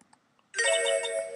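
A phone ringtone inside the Ace Attorney video game starts about halfway through, after a near-silent opening, then plays a loud, bright synthesized melody with steady tones that holds to the end.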